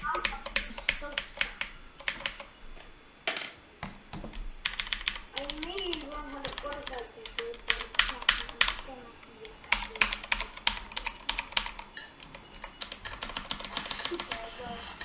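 Clicky keystrokes on a new mechanical keyboard during gameplay, irregular bursts of close, crisp taps with short pauses, and a voice talking at times over the typing.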